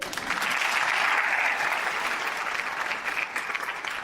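Applause from the audience at a Pakistan Army stage show welcomes an artist, a broad, sustained roar of clapping that swells early and then holds steady, with no speech on top.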